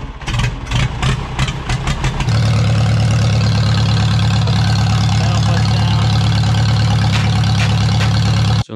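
A Farmall C tractor engine fires up and runs at a steady idle, loud and close, with a deep low rumble and continuous vibration after a few uneven opening seconds.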